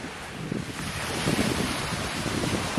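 Steady wind roars at the Selsey seaside during a fishing session, a broad continuous rush with surf-like swells building and easing throughout, no voices.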